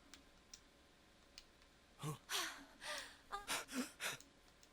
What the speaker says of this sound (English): Seven leaned against the wall, gulping air.